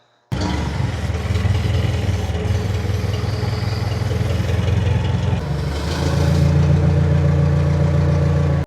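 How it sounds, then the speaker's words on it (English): A forklift engine runs steadily nearby with a low, rumbling idle, then rises in pitch and loudness as it revs up partway through. "I'm using the forklift to slide it into place"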